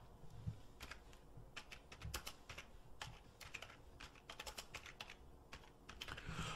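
Fingers type on a computer keyboard, entering a company name into accounting software, a quick irregular run of soft key clicks in small clusters, close and quiet with no voices.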